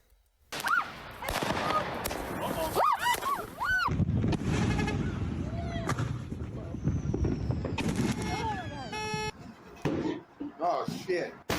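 Fireworks exploding, with loud cracking bangs, rapid crackling bursts and rising whistles in quick succession, heard under frequent talking and reactions.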